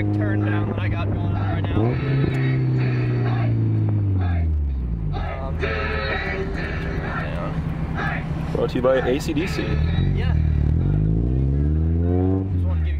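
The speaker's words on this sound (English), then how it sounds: "Turn down sounds sick, though." A 1994 Mazda Miata M Edition with a turndown exhaust revs and settles, its engine note rising and falling in rumbling sweeps close by while people talk over it.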